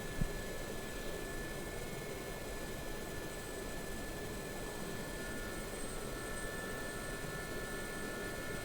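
A Gazelle helicopter descending toward a runway gives off a steady, continuous rotor and turbine roar, broadband and unbroken, with a thin high whine running over it and no voices.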